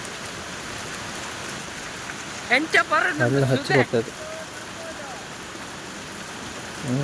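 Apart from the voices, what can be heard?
heavy rain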